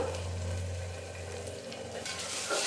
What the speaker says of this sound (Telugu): ఇది మంచిగా పచ్చి స్మెల్ పోయేంత వరకు ఫ్రై చేసుకోవాలన్నమాట.